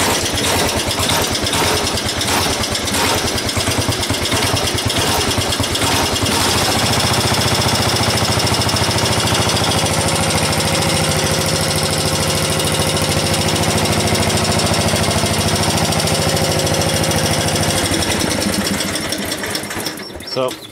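A small engine cranks on its starter and catches, then settles into a loud, steady rattling idle that runs on up close before cutting off near the end.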